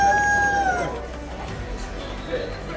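A live rooster crows once at close range in a poultry market in Fez, Morocco, a single drawn-out call that fades into busy market background noise.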